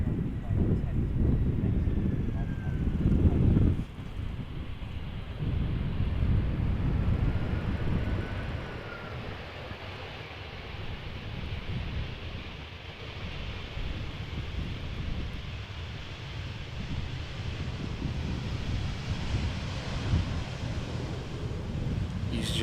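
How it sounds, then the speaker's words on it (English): An EasyJet Airbus A319 airliner arriving at Amsterdam Schiphol Airport, a broad, steady jet roar heard from a distance over wind noise, loudest early and then fading to a sustained rumble. "EasyJet A319 arriving from Milan."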